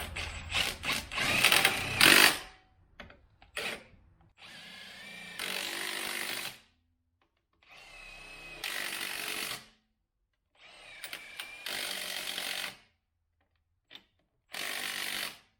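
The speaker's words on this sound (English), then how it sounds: "Get one of these little 12-volt Milwaukee impacts." Milwaukee 12-volt impact driver, used during work on a street car, runs in several short bursts of rattling impacts separated by pauses, close and fairly loud with no talking.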